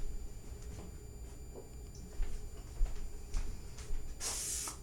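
A can of cooking spray hissing in a short burst onto a baking pan for gingerbread blondies, quiet room background before it.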